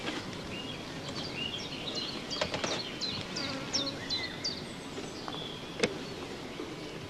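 Honeybees hum in a dense, steady buzz as frames are lifted from their hive, with scattered bird chirps overhead and a sharp tap near the end.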